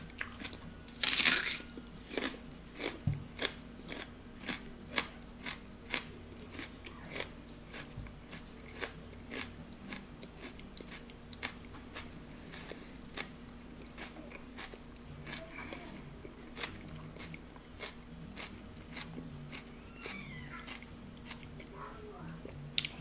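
Raw onion being bitten and chewed like an apple, with one loud crunchy bite early on followed by a steady series of close, wet crunching chews, quiet room tone between, and faint speech.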